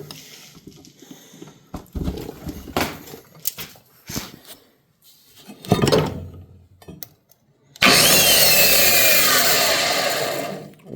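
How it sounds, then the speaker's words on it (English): An old heavy-duty 9-inch angle grinder from a scrapyard is handled with knocks and clatter, then switched on, roaring loudly and steadily for several seconds before beginning to wind down. "here I've got one of the old school heavy duty 9-inch angle grinders that I picked up at the scrapyard."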